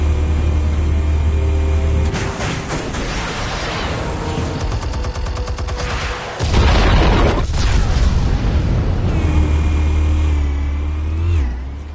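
Armed explosives going off in a Batman Telltale scene: a loud booming blast swells over rumbling engine-like noise and debris, followed by a second heavy burst and lingering crackle.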